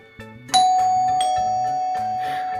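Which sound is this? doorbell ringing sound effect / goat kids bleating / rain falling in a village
doorbell ringing sound effect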